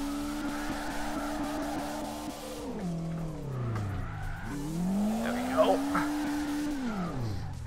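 A drift car in CarX Drift Racing video game has its clutch kicked: the engine revs up, sags and climbs again while the tires squeal and skid continuously, with a voice talking over the driving.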